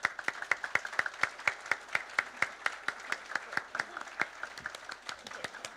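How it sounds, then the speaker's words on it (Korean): A church congregation stands and claps in unison to welcome a missionary back from Morocco, with sharp, rhythmic beats in a steady pulse and faint voices underneath. "박수로 환영해 드렸으면 좋겠습니다."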